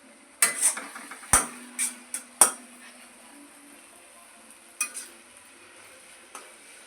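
Schezwan chutney being stirred in a pan: a few sharp clinks and scrapes of a spoon against metal, clustered early and then sparse, over a faint low sizzle, close and clear.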